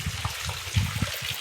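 Rainwater flows past a village doorway during a night of heavy rain, a steady close burble and trickle with low gurgling pulses.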